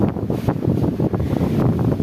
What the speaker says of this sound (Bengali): ঝড়ো হাওয়া শুরু হয়েছে